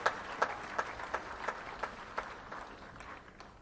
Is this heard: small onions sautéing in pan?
no